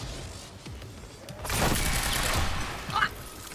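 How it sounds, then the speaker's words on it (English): Enemy gunfire aimed at the player in the video game Quantum Break: a dense burst of rapid shots swells in mid-clip and holds for about a second, with a sharp crack near the end and someone talking over the game sounds. "Oh, stop shooting! Stop shooting me!"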